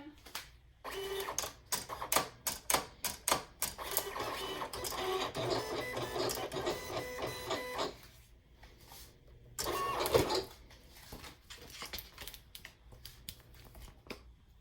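A vinyl sticker cutter machine runs a test cut, whirring and stepping in busy mechanical bursts that pause briefly and restart, heard up close without talk.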